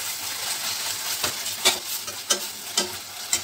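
Ginger garlic paste sautéing lightly in a pan, a continuous close hiss of sizzling broken by a handful of brief stirring scrapes spaced roughly half a second apart.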